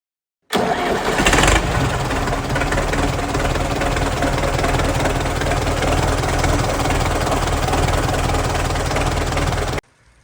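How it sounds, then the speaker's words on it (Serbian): An air-cooled tractor engine cranks over and starts, then runs steadily at a loud, rough idle close by, with a knocking chug throughout before it cuts off. "I evo ga, taj famozni Daicov motor sa vazdušnim hlađenjem."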